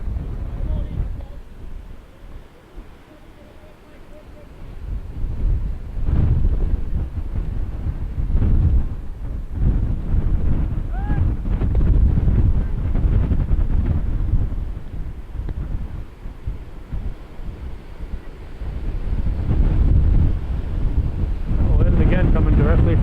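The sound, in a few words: wind blowing across a baseball field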